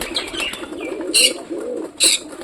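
Pet pigeons kept in a loft make soft, rolling coos close by, with a couple of brighter sharp chirps breaking in, and no talking.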